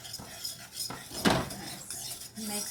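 A metal whisk mixes inside a pot with cream, giving repeated clinking and scraping strokes against the metal sides at close range, uneven in rhythm, with no voices.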